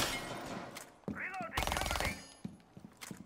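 Gunfire from the tactical shooter game Rainbow Six Siege, a few sharp bursts and rapid automatic shots cutting through the mix, with a voice talking in between and over the shots.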